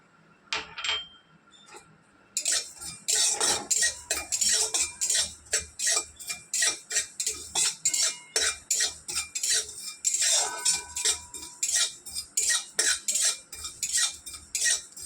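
Black cumin seeds dry-roast in a hot, empty wok while a metal spoon stirs and scrapes them, giving quick, close clinks and rattles in an irregular rhythm after a quieter opening.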